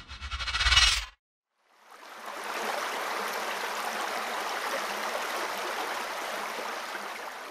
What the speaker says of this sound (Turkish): Karlı dağlar ve yaylalardan koşarak akan sular